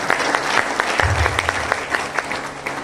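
A crowd applauding steadily, many hands clapping together in a dense, sustained patter at moderate distance.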